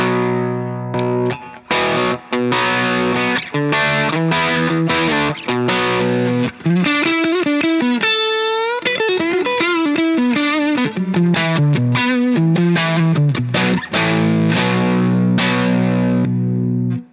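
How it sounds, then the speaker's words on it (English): Crunchy electric guitar through the higher-gain side of a Duelist overdrive pedal into a Shinos Rocket Combo amp, playing a continuous riff of chords and single-note runs, including a bent note midway, with no voices. "the other side of the Duelist pedal I have set to a little more gain"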